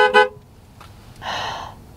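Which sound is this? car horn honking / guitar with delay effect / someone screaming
car horn honking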